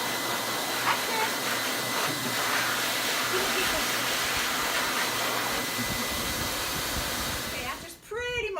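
A pet blower dries a Samoyed dog's thick white coat with a steady, loud, close hissing roar that runs almost the whole time, a voice faintly underneath, before it cuts off near the end.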